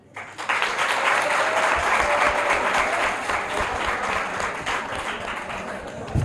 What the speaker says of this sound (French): Les mêmes applaudissements, je voudrais que vous les portiez